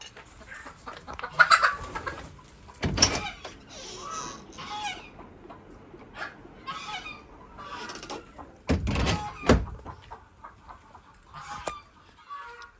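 Hens cluck and squawk in irregular bursts around a farm yard, with a few loud honking calls standing out above the quieter clucking.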